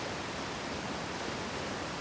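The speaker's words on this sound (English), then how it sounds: "That waterfall is so loud." Loud, steady rushing of a waterfall in the video game Outer Wilds, a continuous broadband roar that fills the whole stretch with no pauses and no voices over it.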